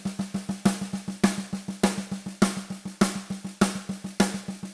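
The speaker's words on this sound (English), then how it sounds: "let's take the 16th note single stroke roll and just accent every quarter note" A drum plays a 16th-note single stroke roll with every quarter note accented, a steady rapid stream of even strokes with a louder hit every fourth note, close and dry with no talking.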